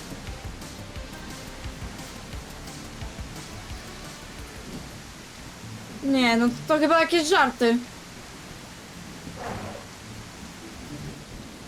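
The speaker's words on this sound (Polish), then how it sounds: "Ten deszcz już tak leje, kurde, z 15 minut myślę." Steady rain pours with low rumbling in a video game, a continuous wash of noise, and a person briefly speaks over it midway through.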